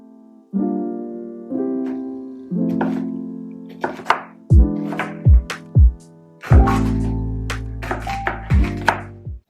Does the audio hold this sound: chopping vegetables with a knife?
yes